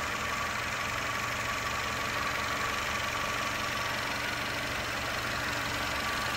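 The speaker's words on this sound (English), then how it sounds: "So I don't want to talk over the engine." A 2019 Mercedes-Benz GLC 250 petrol with a nine-speed gearbox idles steadily, its even engine hum running unbroken and fairly close for several seconds with no talking.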